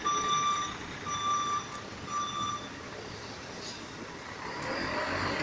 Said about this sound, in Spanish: Se salen en reversa.